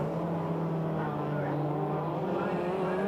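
Rallycross cars race at a 1991 meeting, a big Chevrolet among them, their engines a continuous roar heard from a distance, steady throughout with no clear pass-by.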